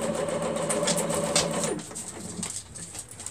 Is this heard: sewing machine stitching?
yes